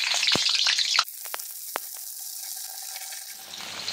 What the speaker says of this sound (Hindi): फिर गैस को हम कम कर देंगे और वो हम कटहल डालेंगे इसमें।